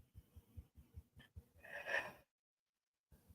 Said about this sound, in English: see how I kind of took that breath?